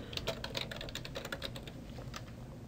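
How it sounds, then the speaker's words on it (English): Someone types a login entry on a computer keyboard. Quick, uneven key clicks clatter close up in a continuous run, with no voices. "you can just type in all caps, tamu-clar"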